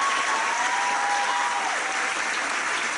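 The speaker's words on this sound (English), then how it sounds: "I would also just like to give a round of applause to Susan Taylor" Steady audience applause fills the room in honor of Susan Taylor at a club gathering, a dense continuous clatter of many hands clapping without a break, with no voices over it.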